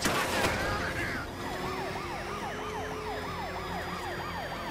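Wailing police car siren in Batman: Arkham Knight, rising and falling in steady repeated sweeps over a low engine rumble, loud and close after a brief burst of noise at the start.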